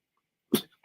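A single sharp sneeze bursts out abruptly after near silence, close and loud, followed by a faint breath.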